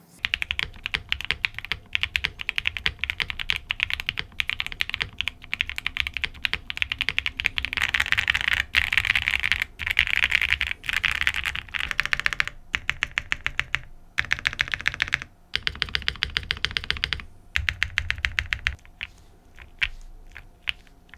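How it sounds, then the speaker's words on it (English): Steady, rapid clacking of a Sunset80 mechanical keyboard with full foams, including an IXPE sheet, typed on up close, crisp keystrokes in quick bursts with a few brief pauses. "It's a gorgeous board and has a really nice typing feel and sounds pretty nice with the right foams"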